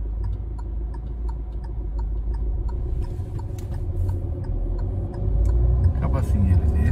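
A Hyundai i20 turn signal ticks steadily inside the car on a driving-school exam course, the clicks running under a constant low engine rumble and growing more distinct partway through.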